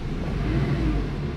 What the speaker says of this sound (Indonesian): Coba ngegas dikit-dikit.